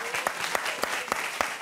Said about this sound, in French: tout le monde, on applaudit tout le monde.